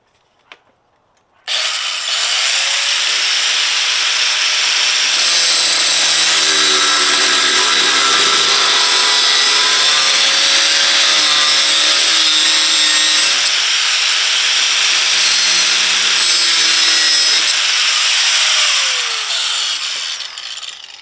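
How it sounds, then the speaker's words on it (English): An angle grinder cuts off a roof-top tent mounting bolt on a Chevrolet Colorado 4x4, a loud, close, continuous high whine that starts abruptly and runs nearly twenty seconds, shifting slightly in pitch under load before winding down. "I'm gonna grind that off"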